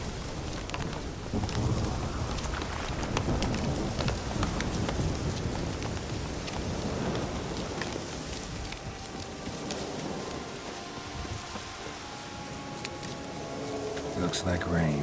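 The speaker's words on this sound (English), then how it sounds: "Looks like rain." Rain falls steadily in The Witcher 3, a dense hiss of drops with faint rumbling and wind beneath, continuous for the whole stretch with no talking.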